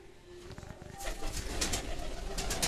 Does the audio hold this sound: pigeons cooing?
yes